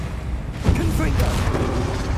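A Confringo blast spell fired in Hogwarts Legacy lands as a loud low boom with a bursting crackle, followed by a rumbling tail under continuing game noise.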